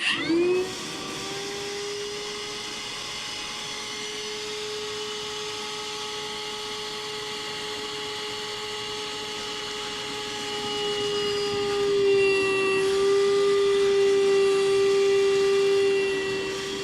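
A DeWalt 20-volt battery-powered vacuum runs continuously at close range, a loud steady motor whine that rises in pitch and strain toward the end.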